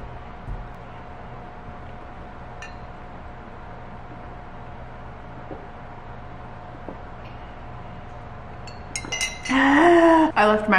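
Water poured into a drinking glass at home, a short bright clink and liquid gurgle arriving near the end after a long quiet stretch of room hum.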